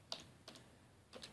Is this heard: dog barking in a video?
no